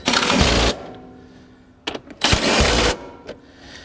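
A ratchet tightens the driver seat bolts in a 2014–2018 Subaru Forester, heard as two long bursts of fast, close clicking separated by a quieter pause with a few short taps.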